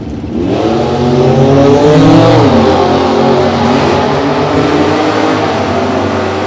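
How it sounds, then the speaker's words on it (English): V6-powered Camaro with a stock automatic transmission launches at a drag race, its engine roaring loud and close as it revs hard and climbs through rising pitch, then holds a strained, steady drone without any voices. "That is a V6 powered Camaro in stock automatic out of D&B Engineering."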